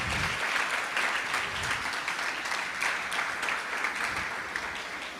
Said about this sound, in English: So a huge, huge round of applause and welcome and gratitude for these wonderful